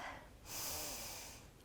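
One deep, audible breath during a yoga session: a soft nasal intake, then a long, breathy exhale through the nose, close and quiet with no talking.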